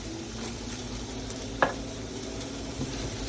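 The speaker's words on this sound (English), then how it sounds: "Add some garlic into these onions." Garlic and onions sizzling in a pan, a steady close frying hiss throughout with one brief utensil tap partway through.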